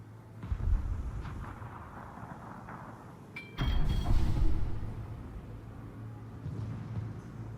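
Naval gunfire in the video game World of Warships: a low rumbling boom opens, then a second, heavier blast rolls out with a long fading tail, followed by a softer distant thump, under a steady engine-like hum.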